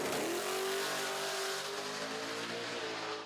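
A drag racing car with a huge engine filling the space where the trunk used to be, a record-setting 275 radial quarter-mile machine, revs loudly and steadily, its pitch climbing and then holding in a sustained roar, close and continuous.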